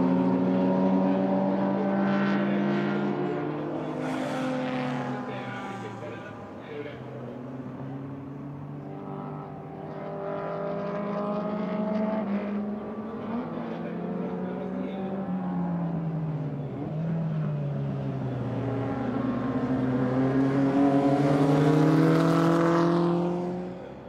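A Ferrari 250 and a Maserati T61 race at the Hungaroring in 2017, their loud engines droning continuously with pitch rising and falling as they accelerate, shift and pass, close and sustained throughout.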